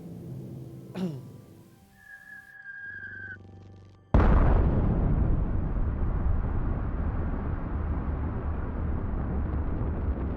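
Artillery fire and explosions in a strategy video game: a short whistle and a steady tone give way to a sudden loud boom that rolls into a heavy, sustained rumble of blasts, close and alone.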